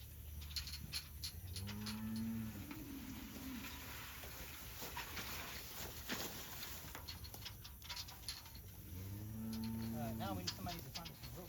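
Cattle moo repeatedly from farm pens, with long low calls near the start and again toward the end over steady background noise and scattered shuffling.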